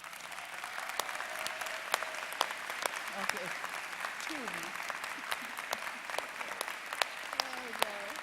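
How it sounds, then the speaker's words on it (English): Scattered clapping from a commencement ceremony audience, fairly faint and sparse with sharp individual claps, while a voice speaks briefly over it. "with a spirited round of applause"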